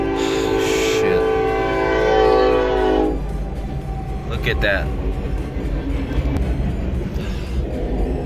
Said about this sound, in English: Oh crap, guys, here comes the train.